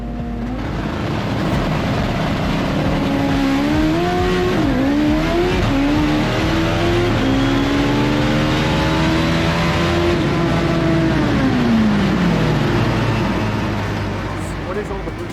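A turbocharged Japanese economy car drag-races down the strip on about 90 pounds of boost, its engine screaming loud and steady as the pitch climbs through several gear changes. A voice talks over the engine noise.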